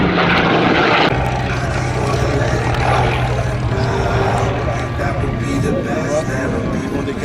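A 1936 elliptical-wing propeller fighter flies past at the Meaux airshow, its engine a steady, loud drone that holds through the whole stretch, with a spoken commentary voice over it.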